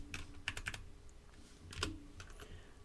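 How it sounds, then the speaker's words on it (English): Quick bursts of keystrokes on a computer keyboard as a long, large number is entered, clustered clicks with short pauses, close and fairly quiet with no talking. "So we'll type in a large number"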